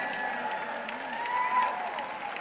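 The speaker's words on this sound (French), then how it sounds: "vous n'applaudissez pas pour ça aussi fort que vous le devriez" Large audience at a religious teaching event applauding, a broad crowd clap with faint cheering, with a sustained tonal sound running underneath throughout.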